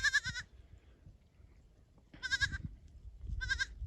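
Goats on a Minnesota farm in December bleat in three loud, close, wavering calls separated by pauses, with low shuffling and rustling between them.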